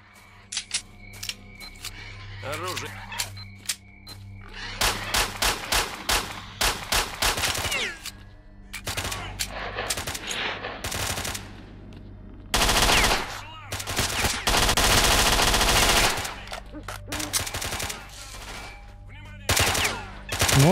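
Bursts of automatic gunfire in the modded shooter Stalker: Shadow of Chernobyl, crackling in long rapid volleys and short single shots, some distant and some close, with brief pauses between exchanges.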